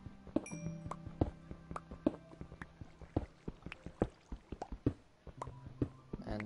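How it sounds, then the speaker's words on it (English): Bubbling and dripping liquid sounds in a video game, read as flowing lava and water: a steady run of small, irregular plips and clinks, fairly quiet and close, with no voice over them. "Boy, I hear lava."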